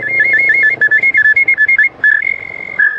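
A souvenir whistle bought in a beach town's tourist shops is blown loudly and repeatedly: a quick run of short, even toots, then a few longer sustained blasts, with no talk.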